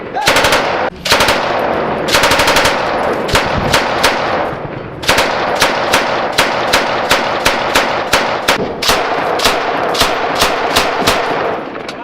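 Loud bursts of machine gun fire ring out in rapid repeated volleys during fighting against ISIS in Kirkuk, with short gaps between strings of shots and faint voices beneath.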